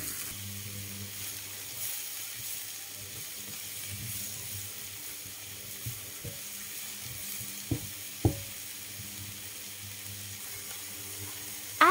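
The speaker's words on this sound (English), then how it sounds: "Fry the vegetable mix with chestnut mushrooms for 5 to 8 minutes in the remaining cooking fat" A vegetable mix with chestnut mushrooms fries in leftover bacon fat in a pan, giving a soft continuous sizzle with a few sharper clicks of a utensil near the end.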